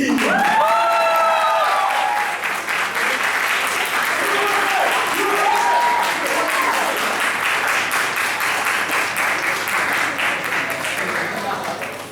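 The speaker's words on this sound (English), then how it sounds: "Can you please give a round of applause?" A room full of delegates at a Model United Nations conference claps steadily and loudly, with a few scattered whoops and voices mixed in, the applause tapering slightly toward the end.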